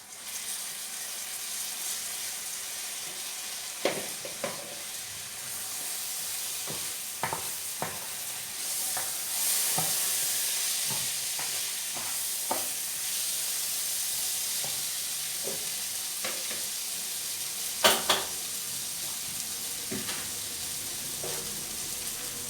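Rice poured onto browned vermicelli in a hot pot and stirred, giving a steady sizzle with scattered scraping and clinking strokes of a spoon against the pot, close and moderately loud, with no voices.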